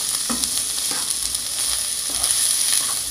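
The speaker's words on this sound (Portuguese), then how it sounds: "dourar um pouquinho aqui." Shrimp brown in a hot pan with a constant close sizzle and frying hiss, and a few soft stirring clicks along the way.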